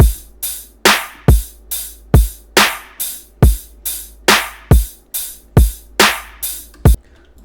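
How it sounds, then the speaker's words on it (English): Dubstep drum solo in a Serum sound-design context: a steady pattern of about a dozen heavy kick thumps trading with bright, crisp snares and hi-hat, loud and upfront with no other sounds. "So the drum solo, they sound like this."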